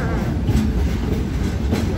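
The Frisco Silver Dollar Line steam train at Silver Dollar City rolls along its rails with a steady low rumble and faint rhythmic clatter, heard from on board and fairly loud.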